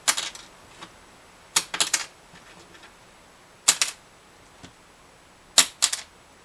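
A small plastic guitar saddle is dropped several times onto a hard surface, and each drop gives a quick cluster of sharp clicks as it bounces. There are four separate bursts, close and crisp, with quiet gaps between them.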